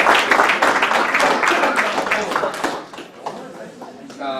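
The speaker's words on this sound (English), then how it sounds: "Let's give Omar a round of applause." A round of applause for a player at a men's soccer banquet: a room of people clapping steadily for a few seconds, then tapering off, with a voice over it.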